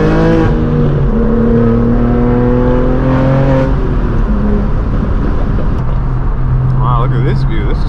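Straight-piped BMW M4 G82 driving on open roads, its loud exhaust droning and shifting pitch steadily throughout, up close, with people talking over it.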